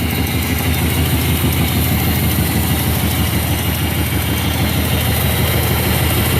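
Car engine fitted with a Rochester QuadraJet carburetor idling at low speed after dropping out of high idle, a steady, loud, close rumble with an even throb and no change in pitch; no talk.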